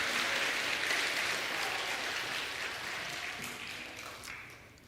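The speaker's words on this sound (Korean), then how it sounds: "우리 예배를 받으시는 하나님께 영광의 박수 올려드립시다." Worship congregation clapping in praise to God during a church service, a steady wash of many hands that slowly fades, heard at a distance and fairly soft.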